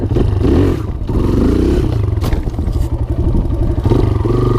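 A dirt bike engine during wheelie practice, close and loud, revving and rattling in uneven bursts with a throbbing, choppy exhaust note and mechanical clatter.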